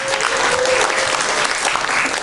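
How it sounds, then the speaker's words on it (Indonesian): Audience at a design talk in a company setting applauds steadily, a dense, even clapping filling the room for a couple of seconds with a faint voice briefly audible at the start. "Tepuk tangan dong yang udah datang dong"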